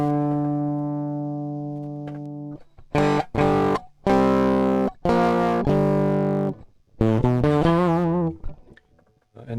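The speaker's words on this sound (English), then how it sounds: "unpleasant distortion" A heavily distorted electric guitar through an Electro Kittie distortion pedal plays sustained chords, then a run of short, loud, fuzzy chord stabs with gaps between them, ringing close and up front.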